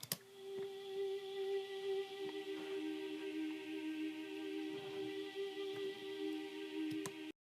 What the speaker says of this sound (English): I went ahead and added a pad, and a pad is just a soft sound, and it's just kind of like a lead into a build up